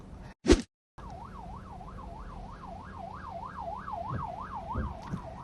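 An ambulance siren on a city road in South Korea wails in a steady rising-and-falling yelp over road noise, after a brief sharp burst at the start.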